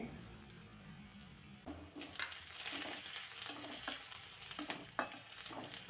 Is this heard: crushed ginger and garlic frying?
yes